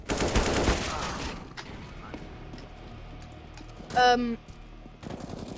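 Gunfire from the R8 revolver in the game CS:GO, a dense burst of sharp shots at the start followed by quieter game sounds and a brief tonal flourish near the end.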